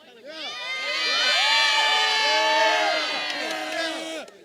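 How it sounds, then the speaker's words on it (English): A high school student section at a football game, West Holmes at Wooster Triway, cheers and yells. Many voices swell into loud whoops and shouts, hold there, then fade toward the end. "they sound fired up there on the West Holmes side"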